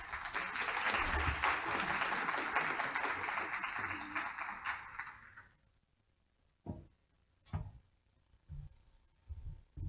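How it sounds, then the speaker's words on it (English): Audience applause for speaker Nancy Carpenter at a lunchtime history talk previewing Ken Burns' The American Revolution, a loud sustained round of clapping that fades out after about five seconds, followed by a few scattered thumps and small room noises. "So let's give a round of applause for Nancy Carpenter."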